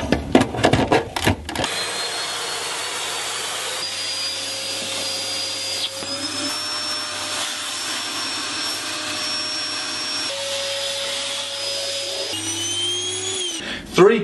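A KitVac built-in kitchen vacuum cleaner with a hose of about 5 meters switches on and runs with a steady, loud whine and motor drone. The pitch shifts slightly as it runs, and the sound cuts off near the end.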